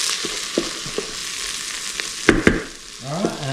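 Onions fry in a pan for a Napoli-style tomato sauce, giving a steady crackling sizzle with a few utensil knocks and scrapes as they are stirred, close up with no speech.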